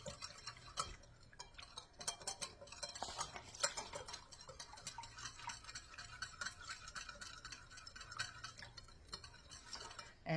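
Cowboy caviar salad stirred in a bowl: quick, continuous clicking and scraping of a utensil with small taps, fairly quiet and close, no voices.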